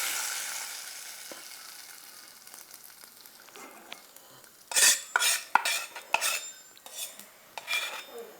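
Mustard seeds and urad dal in heating oil: a faint hiss at first, then a run of sharp metallic clanks and scrapes of a spoon stirring against the pan, irregular and close, with no voices.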